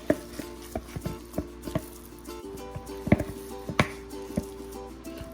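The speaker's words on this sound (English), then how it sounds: "Now we'll stir." Biscuit dough with cheese being stirred in a bowl, giving soft, quiet, irregular taps and squishy knocks from a spoon, close by and fairly faint, with no talking.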